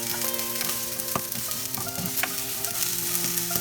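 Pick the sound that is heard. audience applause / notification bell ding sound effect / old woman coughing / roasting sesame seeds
roasting sesame seeds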